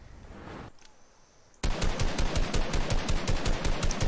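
Video game gunfire: a short muffled burst, a brief lull, then a loud, sustained automatic weapon firing in a steady rapid rhythm.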